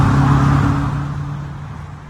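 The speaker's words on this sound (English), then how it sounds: "Here's a car trying to get out of the bank parking lot." Car trying to pull out of a bank parking lot: a close engine hum with a steady low drone that fades gradually as the car moves off, with no talking.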